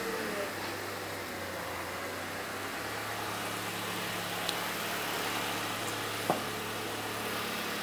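A 2008-2012 Honda Accord engine idles steadily with a low hum while the steering is turned left and right, a faint whine rising slightly midway and a couple of brief clicks, with a voice in the background.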